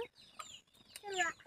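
Chickens cluck in a few short, close bursts, with soft squawky calls overlapping in a brief, quiet stretch.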